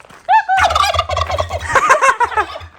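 A turkey at a rural home gobbles loudly and close, a rapid warbling burst that fills nearly the whole moment.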